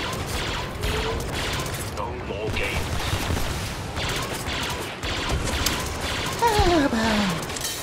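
A gunship in a Star Wars battle rakes the ground with continuous rapid fire, bursts of shots and blasts layered with mechanical clatter and a descending whine, while voices talk throughout.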